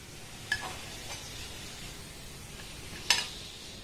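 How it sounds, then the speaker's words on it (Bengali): Palm pitha cakes frying in hot oil give a steady, soft sizzle throughout, broken by two sharp clinks of a utensil against the pan, with no voices. "এইভাবে কিন্তু সমস্ত পিঠা আমি ভেজে নেব"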